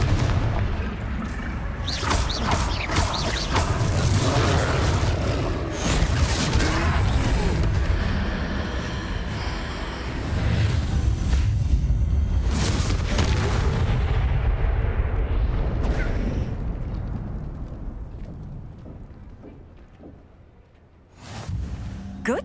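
Repeated fiery Confringo spell blasts in Hogwarts Legacy, a series of loud booming bursts over a continuous dense battle din, with a brief lull near the end before another hit.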